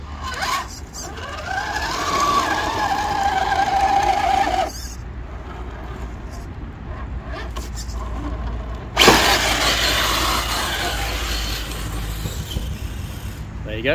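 RC crawler with a Hobbywing Fusion Pro 2300kv brushless motor whining up in bursts as the wheels spin trying to climb an obstacle, rising electric whir with short pauses, a voice speaking briefly.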